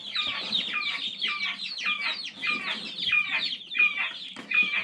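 Chicks cheep in a rapid, steady chain of high, descending peeps, close and clear, while being given water mixed with vinegar, garlic and honey.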